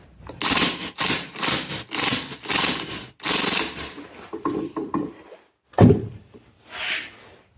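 Hand ratchet cranking on the rear axle assembly of a 1996 Cushman Titan under restoration, a series of close, loud rapid clicking bursts with short pauses between strokes, ending in a couple of separate metallic clunks.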